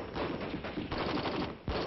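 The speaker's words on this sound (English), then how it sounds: "The M14 rifle is designed for both full automatic and semi-automatic fire." An M14 rifle fires in a rapid run of shots, sharp broadband cracks following one another closely in a brief, dense burst of gunfire.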